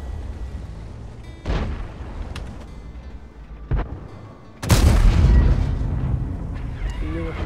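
Tank guns fire in a World of Tanks battle, with several heavy booms and blasts; one large, loud shot lands midway and rumbles on under the gameplay noise.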